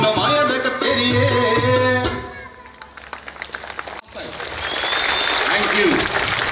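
An audience claps and cheers at a magic show, a loud dense burst of applause that swells and fades out around music and a voice, then returns more softly.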